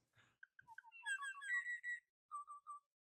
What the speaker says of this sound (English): that being moho, which is a type of bird. I love the noises they make.